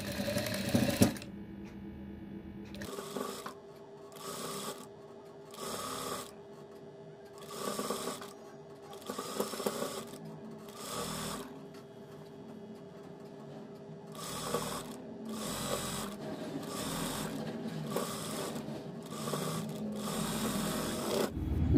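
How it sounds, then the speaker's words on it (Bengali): A sewing machine stitches lace onto salwar fabric in repeated bursts of mechanical whirring, each lasting a second or two, separated by short pauses at a steady, moderate level. "এই লেসের এই মাথাটার উপরে আমরা সেলাইটা দিব"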